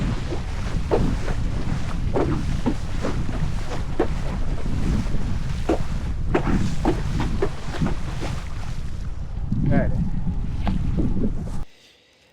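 A gust of wind rushes over open water during a light-wind parawing start, with steady loud blustery roar and buffeting across the microphone, soft water slaps beneath, cutting off abruptly near the end.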